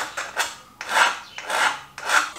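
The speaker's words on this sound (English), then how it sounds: "I've cut and file the ends of the tubing and got rid of all the sharp bursts" A hand file rasps across the cut ends of metal tubing for a 4WD drawer install, up close, in about four even back-and-forth strokes with a brief gap between each, no talking.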